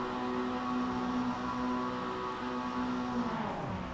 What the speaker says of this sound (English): The revs rise.